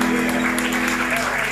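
Audience applause at an Argentine folk music concert, steady dense clapping that fills the space evenly throughout with no break.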